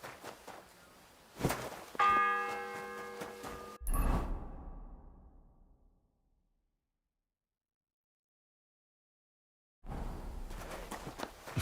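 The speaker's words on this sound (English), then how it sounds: "The fourth bell." Church bell in the video game Kingdom Come: Deliverance 2 rings out in one clear, resonant strike that lingers and fades over a couple of seconds before silence, with soft ambient rustle around it.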